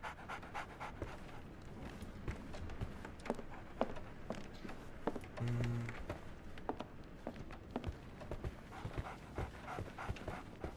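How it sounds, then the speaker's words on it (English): A dog pants rapidly and steadily in the Sherlock Holmes The Awakened video game, with quick rhythmic breaths close by and occasional soft footstep-like taps underneath. "So, Barnes has a dog now."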